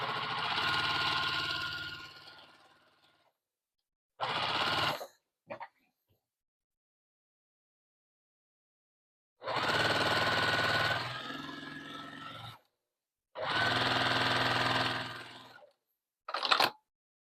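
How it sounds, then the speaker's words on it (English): A sewing machine stitches binding onto a quilted wall hanging in several bursts of steady mechanical whirring, separated by silent pauses and a few short starts, close and fairly loud with no talking. "Just overlap a little bit where you left off from before and just sew the rest of it."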